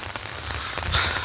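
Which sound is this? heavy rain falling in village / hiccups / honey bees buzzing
heavy rain falling in village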